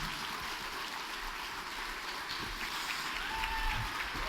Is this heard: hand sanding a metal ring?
no